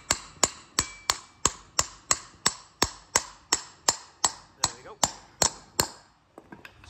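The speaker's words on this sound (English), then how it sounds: "Just give it a slight tap." A bearing is tapped into its housing during a tractor repair: about fifteen sharp, evenly spaced metallic knocks at a steady rhythm, each decaying quickly, close and clear, ending with a couple of lighter taps.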